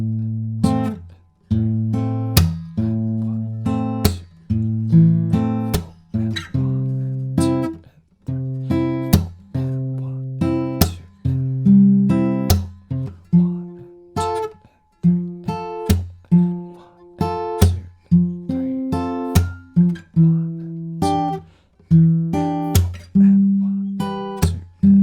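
Fingerpicked acoustic guitar in a studio-version pattern, no capo, played alone at a steady tempo: a bass note then plucked treble strings, repeating in even bars for about twenty-five seconds.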